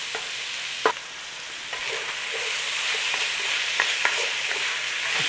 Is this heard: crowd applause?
no